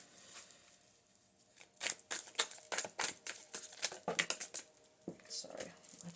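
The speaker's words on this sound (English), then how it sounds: "I'm just trying to shuffle it up a little bit." Deck of tarot cards being shuffled by hand in a quiet room, soft irregular riffling and slapping bursts, close and faint, with pauses between handfuls.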